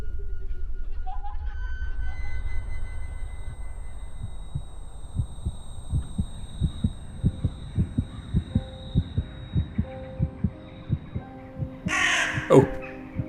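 A game ambience from The Cursed Forest builds into a rhythmic heartbeat-like throbbing over a low hum, and near the end a crow gives a short, loud, close caw.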